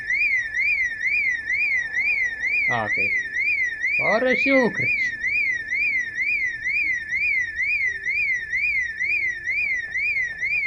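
A car alarm in the video game Project Zomboid wails continuously in a fast rising-and-falling electronic pattern, loud and steady throughout, while someone talks briefly over it.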